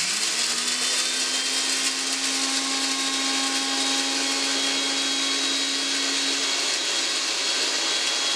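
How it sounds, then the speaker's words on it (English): Electric grinder whirring steadily as it pulverizes crispy dried carrot into powder, a high, even motor whine that holds for several seconds before winding down slightly near the end. "With the help of grinder, we will grind this to make powder."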